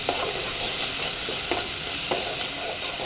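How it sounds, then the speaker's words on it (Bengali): A spoon stirs cumin powder and salt spice mix in a frying pan over a steady loud sizzle, with a few soft scraping strokes at intervals. Close by, no talking. "মশলাটা খুব ভালো করে নেড়ে নেব"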